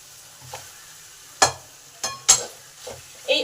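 Boiled potato being stirred into beet and carrot in a pan for a vegetable chop, a few sharp scraping clinks of a spoon against the pan spaced irregularly over a faint background.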